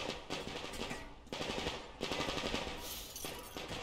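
Rapid automatic gunfire from the video game Metro Exodus, in several loud bursts of machine-gun fire separated by short breaks.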